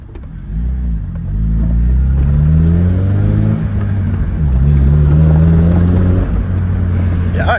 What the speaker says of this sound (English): Y'all hear that Mugen exhaust?